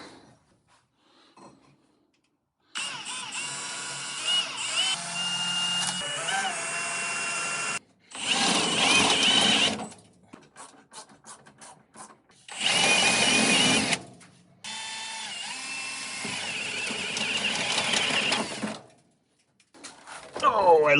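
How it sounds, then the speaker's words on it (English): A power drill bores holes through the firewall of an Advance Design truck for the brake booster studs. Several whining bursts of varying length are separated by brief pauses and quiet handling sounds. "I'll have to drill all 4 holes so that that brake booster, the studs on the booster, can come through the firewall"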